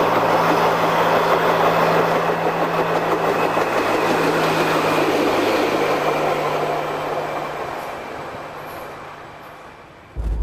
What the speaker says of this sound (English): Diesel railcar 42 makes its second appearance for the day at 10:20 with the 940 ex-Seymour chocolate service.